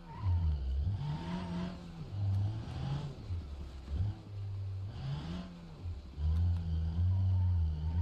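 A Toyota Hilux with deflated tyres driven off-road in the BeamNG.drive video game, its engine rising and falling in repeated revs, moderately loud and close, with no voices.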